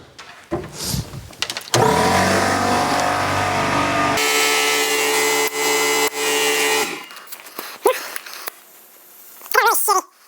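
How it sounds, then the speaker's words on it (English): Air compressor running loudly while inflating a Shinko 244 motorcycle tire on a Juiced Bikes Hyper Scorpion to seat the bead, a steady mechanical drone that cuts off abruptly, with short hiss bursts around it. "Let's get the air compressor and let's seat the bead."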